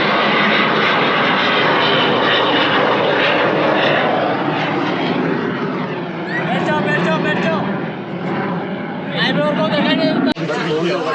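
A jet roars loudly overhead at a Goa beach, its engine swelling and then fading as it passes, with people chattering nearby.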